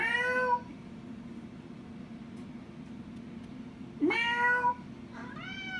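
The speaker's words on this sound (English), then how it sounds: "We're being joined by our assistant, Sweeney. Meow." A cat meows close by, two drawn-out cries separated by a quiet stretch and followed by a shorter third meow, over a faint steady hum in a kitchen.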